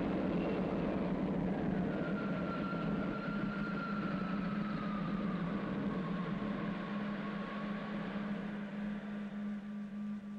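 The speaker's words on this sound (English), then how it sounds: "Mison power on. Mison unit gaining speed. All in order. Ready to lift. Takeoff program starting now." Spaceship engine powering up for takeoff in the 1962 sci-fi puppet series Space Patrol, a steady low electronic hum with a slowly gliding tone above it, sustained and moderately loud without talk.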